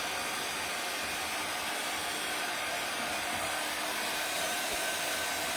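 A hair dryer blows steadily on a homemade Christmas gnome craft, giving a continuous, fairly loud whooshing whir that holds unchanged throughout with no voices.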